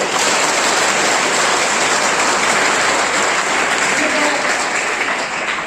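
Residential school students in a hall clap together in a loud, dense, sustained burst that holds steady and eases slightly at the end.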